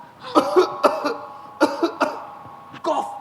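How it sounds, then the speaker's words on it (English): Several sharp coughs in quick bursts, close and fairly loud, with short pauses between them and a final cough near the end. "When I suddenly coughed."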